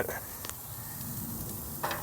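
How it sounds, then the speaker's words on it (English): A massive steak sizzles in a pan, a steady close frying hiss running throughout with a few faint scraping clinks as it is turned. "You guys hear that? Got that nice sizzle going."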